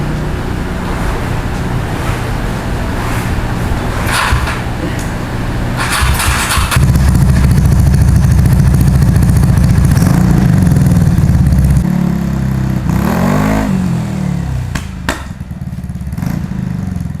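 A Shijiro Viper aftermarket motorcycle exhaust with its dB killer fitted rumbles loud and close, a steady idle with throttle blips that swell the deep growl partway through, no talking.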